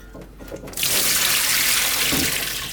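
Water runs into cast iron pans resting on a roll-up kitchen rolling mat. After a short quiet start, the pour is a loud, steady, continuous rush with no talking.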